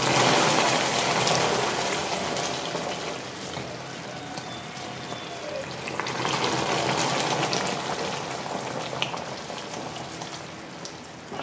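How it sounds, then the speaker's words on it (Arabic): Water poured little by little into a deep pot, a continuous close splashing trickle that swells and eases in steady waves, without any talking. "كنصبو الماء شيئا فشيئا"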